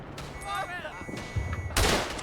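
Machine gun fire from a WWI gun nest in the Tannenberg game, a short sharp burst near the end after a stretch of quieter battlefield noise, with a voice briefly audible.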